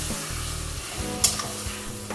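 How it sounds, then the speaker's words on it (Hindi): Minced meat (qeema) sizzles and fries in hot oil for a tandoori-style dish, a steady close crackle with a brief sharper spatter partway through. "इसको अच्छी तरह से भून लें, 2 से 3 मिनट तक अच्छी तरह भून लें कि जो ऑयल है वो बिल्कुल अलग हो जाए कीमे से।"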